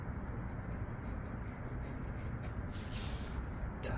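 A 2B pencil rubs steadily across paper while shading a sphere drawing, a close, continuous scratchy hiss with slight stroke rhythm.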